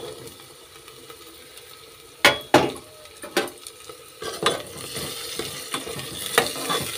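Chopped carrots frying in a pan under a steady sizzle, broken by several sharp scrapes and clatters of a spoon stirring against the metal, close and moderately loud.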